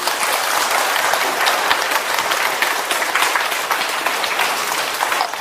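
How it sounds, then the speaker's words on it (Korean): An audience claps in a steady, dense burst of applause, loud and close, sustained evenly across the whole stretch without pause. "박수 한번 치"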